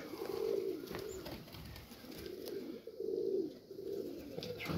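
Pigeons coo softly in a loft, with low, repeated cooing phrases over a steady background hum, close and continuous with no talk.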